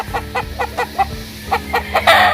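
Gamefowl stags, young fighting roosters picked for pairing, give a quick series of about eight sharp clucks at a steady rhythm, ending in a louder, harsher crow-like burst, close by with low background noise.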